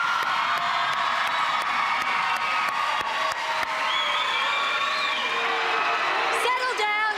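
A studio crowd on the 2004 Australian reality show Big Brother cheers and whoops in a loud, sustained roar that stays near and constant throughout, with some shouting mixed in.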